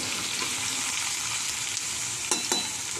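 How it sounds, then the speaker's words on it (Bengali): Potatoes frying in a pan are stirred after a couple of minutes under a lid, giving a steady close sizzle with a few sharp scraping knocks near the end and no talking. "একটু নাড়াচাড়া করে নেবো, আলুগুলো একটু ভাজা ভাজা হয়েছে।"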